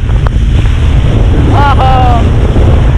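Large ocean waves break with a broad, steady roar of surf, and heavy wind buffets the microphone throughout. A brief whistling tone rises over the noise midway.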